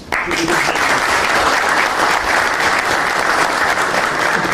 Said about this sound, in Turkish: kendim başta olmak üzere bir alkış